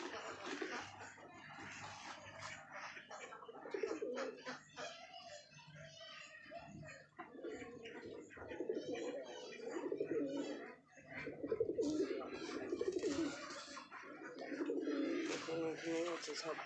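A flock of pigeons feeding in and around a loft coo in soft, overlapping, throaty murmurs that continue throughout. Nearby voices can be heard underneath.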